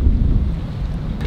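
Gusty wind buffets a tiny speedboat on a long coastal journey, a loud low rumble of wind across the microphone that lasts only a moment with no talk over it.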